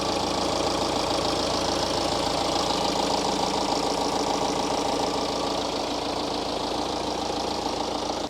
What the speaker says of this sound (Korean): 엔진 소리 한번 들어보시죠